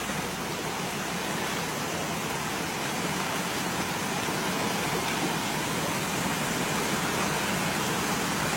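Heavy rain pours down steadily as a dense, even wash of broadband noise with no breaks, nearby and loud throughout, during a fishing outing.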